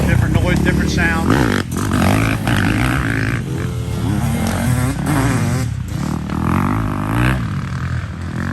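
Dirt bike engines, a 450 four-stroke alongside 250 two-stroke and 250 four-stroke machines, roar and rev loudly and continuously at close range, their tones shifting as throttle rises and falls.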